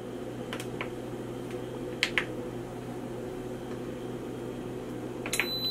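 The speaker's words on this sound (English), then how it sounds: "I'm setting my pot to saute on medium heat" Instant Pot control panel buttons pressed to select saute mode, a few short faint clicks over a steady kitchen hum, one pair near the middle and another cluster at the end.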